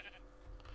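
Sheep bleating in Minecraft on an FTB server, a short, quiet, game-style bleat heard alone.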